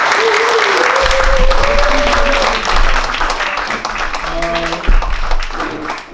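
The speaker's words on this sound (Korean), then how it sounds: "다시 한번 큰 박수 주시면 좋겠습니다" Audience at a French art song class applauding a baritone teacher, loud clapping and crowd noise with some voices and brief sung or spoken tones mixed in.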